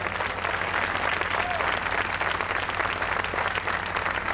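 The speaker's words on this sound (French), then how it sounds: "Et nous applaudissons encore très fort Renaud, Francis Cabrel et Pierre Bachelet" A television studio audience at a 1987 New Year's carnival broadcast applauds singers Renaud, Francis Cabrel and Pierre Bachelet, with dense, loud, sustained clapping throughout.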